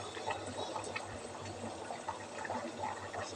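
Chicken curry boils in a pot beside a cooking biryani, giving a faint, continuous bubbling and gurgling with a low steady hum underneath.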